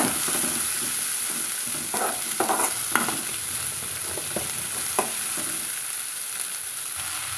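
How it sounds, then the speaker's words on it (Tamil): Vegetables for poriyal fry in a pan with a steady, soft sizzle, broken by repeated spatula scrapes and taps as they are stirred, no voices. "பொரியல் பட்ட காயும் சேர்த்திக்கிறேங்க சேர்த்துட்டு வதக்கி விட்டுக்கலாங்க"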